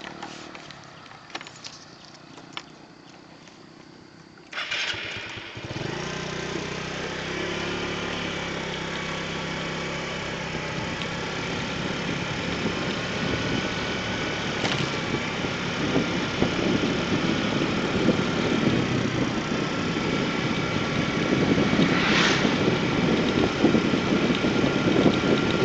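A motorcycle rides slowly through an entrance gate toward an office building at the Puspiptek Serpong research complex, its engine starting up and then running steadily and close by, rising slightly in loudness, with no talk over it.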